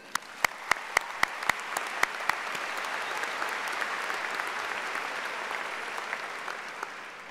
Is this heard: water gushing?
no